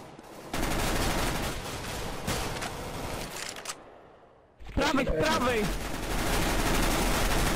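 Dense gunfire in Counter-Strike: Global Offensive, loud and continuous with rapid bursts, a short drop-off, then heavy shooting again, while players shout over it.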